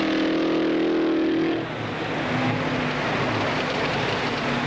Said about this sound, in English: Jim Hurtubise in the famous Novi supercharged V8